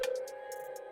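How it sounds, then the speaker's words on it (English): A single soft, sustained synth mallet tone rings out, with faint rhythmic ticks layered over it, made in FL Studio. "how I started this sample is with this mallet, which sounds like this,"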